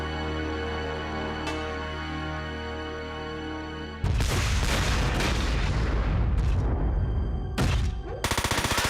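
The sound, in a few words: cannon firing in video game Front Mission 4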